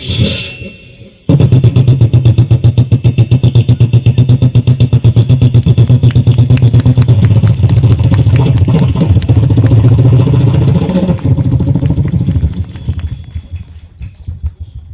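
A voice mimics a standard Royal Enfield Bullet motorcycle starting at an Onam residence association comedy show: a short sputter, then a loud, steady, throbbing engine imitation that holds for about eleven seconds before fading.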